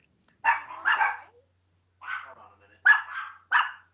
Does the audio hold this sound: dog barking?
yes